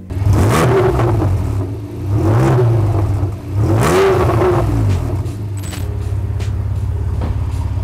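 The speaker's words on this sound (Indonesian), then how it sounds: "Kita hidupin sekarang ya." A Porsche 911 Carrera sports car engine revs loudly several times in succession, each rise and fall of the exhaust roar close by, then settles into a steady idle.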